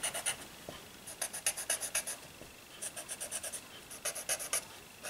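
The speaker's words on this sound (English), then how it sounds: "The graphite, and kind of pushing it into the paper." Graphite pencil strokes scratch across paper in quick rhythmic bursts of short scraping marks, close and soft, with brief pauses between groups of strokes.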